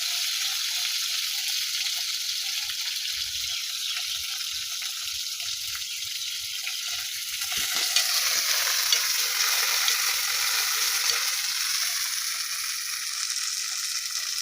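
Garlic, onion and green chili frying in oil in a wok, a constant bright sizzle with soft low knocks of stirring, swelling a little louder partway through, no one speaking.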